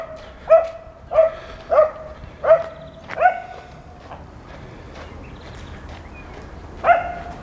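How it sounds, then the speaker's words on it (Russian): Several stray dogs bark in short separate bursts in an outdoor street setting in Kislovodsk near a cathedral, about six barks spaced irregularly, moderately loud over low background noise with no talking. "Много бродячих собак."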